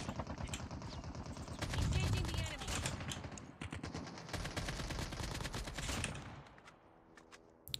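An AK rifle fires in a video game, with rapid automatic bursts rattling out in quick succession, loud and close, then tapering off into quieter ambience.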